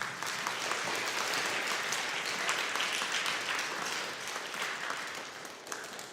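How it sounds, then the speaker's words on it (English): An audience at a school awards ceremony applauds students, a dense, even round of clapping at a distance that holds steady and then tapers slightly near the end. "And now give them a round of applause."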